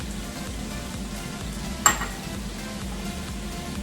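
Sausage, vegetables, zucchini noodles and basil are stirred in a frying pan, a soft continuous sizzle with scraping stirs and one sharp utensil clink against the pan midway.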